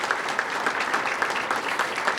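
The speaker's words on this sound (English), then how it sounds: "So let's give another round of applause to the dispatchers." Applause for 911 emergency dispatchers at a ribbon-cutting ceremony for a county emergency communications center, with a crowd clapping steadily and densely throughout, close and fairly loud, with no talk over it.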